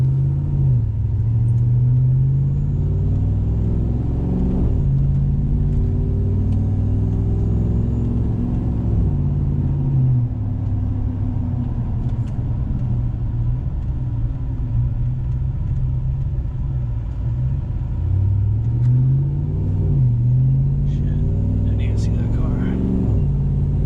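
Truck engine rumbling steadily from inside the cab while driving down a street, with low drones shifting pitch as it accelerates, loud and continuous, with occasional faint creaks.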